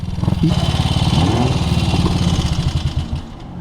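A Piper Cub light aircraft engine runs steadily nearby, a loud, rough, rapidly pulsing drone that holds level and eases off slightly toward the end, with no talking over it.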